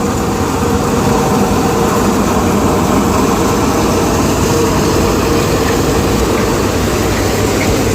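Kartar 4000 combine harvester cutting a pigeon pea (arhar) crop in the field, a steady loud mechanical drone with rumbling low end and broadband threshing noise that holds throughout without pause.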